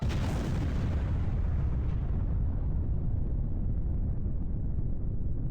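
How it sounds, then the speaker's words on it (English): Explosion of a bag of candy in the video game Zork: Grand Inquisitor, a single loud, broad blast whose roar decays slowly over several seconds, heard alone. "That was quite an explosion for just a bag of candy."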